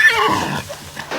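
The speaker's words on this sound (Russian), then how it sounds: "Кстати, кони здесь самые выносливые. Местные карачаевской породы." A Karachay breed horse in the mountains of Karachay-Cherkessia gives a loud, close whinny that starts high and trails downward over about a second, alone with no talk.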